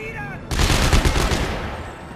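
A sustained burst of rapid, loud gunfire in the Dead Space 3 video game, starting abruptly and lasting under two seconds before fading.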